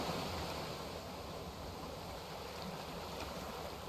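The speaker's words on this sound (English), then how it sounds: "Those waves are pretty intense." Huge ocean waves in the video game Raft churn steadily as a broad, constant rushing wash at moderate level, with no voices.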